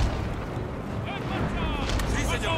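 Booming Napoleonic cannon fire in the strategy game Total War: Napoleon, a dense, continuous low rumble of artillery with voices talking over it toward the end.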